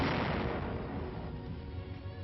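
Artillery and mortar shells exploding in World War II frontline combat, a dense, continuous rumbling roar of blasts that stays loud throughout, with no voices.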